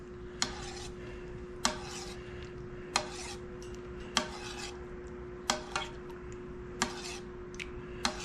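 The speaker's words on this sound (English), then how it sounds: "Get it stirred in good." A spoon stirs goat milk in a pot for cheese making, knocking the rim in clear, evenly spaced metallic clinks about once every second or so over a steady low hum.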